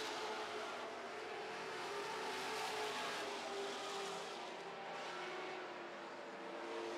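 Super stock race cars circle a track at a steady, distant roar, engines droning continuously with faint tire noise, no voices heard.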